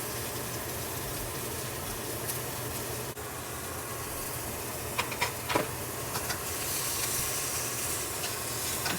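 Salisbury steak patties sizzling in hot oil in a pan just after being flipped, a steady bright hiss of frying with a few louder pops and spatters partway through.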